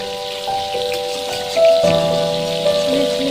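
Tilapia fish pieces frying in hot oil, a steady dense sizzle and crackle with a few louder spits and pops running throughout, close and continuous with no voices.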